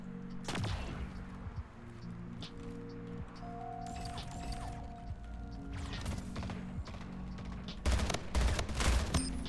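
Rapid video game gunfire from a first-person shooter, sharp bursts of shots recurring throughout, loudest in a dense cluster near the end, over a steady game hum.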